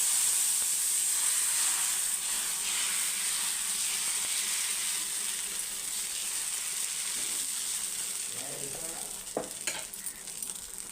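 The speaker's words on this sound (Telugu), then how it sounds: "దోశ అయితే వేసేసుకుందాం మనం." Dosa batter spread thin for a crispy paper dosa sizzles on a hot pan, a loud steady hiss running the whole time, with a few light clinks and scrapes near the end.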